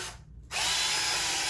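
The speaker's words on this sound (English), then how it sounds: "So I'm going to drill guide holes," A power drill bores guide holes into wooden wall studs during a closet remodel. After a brief quiet gap, the motor whines up and runs steadily, loud and close, with a high buzzing tone.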